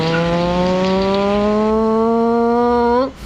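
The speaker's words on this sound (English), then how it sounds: "You hear this revving like" A steady engine drone climbs gradually in pitch as it revs, loud and close with a strong harmonic whine, then cuts off abruptly near the end.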